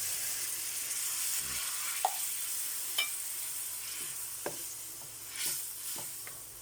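Coconut milk stirred into a pot of simmering squash stew, with a soft steady sizzle and bubbling broken by a few light scrapes of a spoon against the pot, close and fairly quiet.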